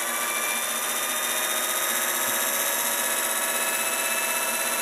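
A series DC motor runs on 12 volts with a steady, high-pitched whine and hum, spinning at a healthy speed throughout without pause.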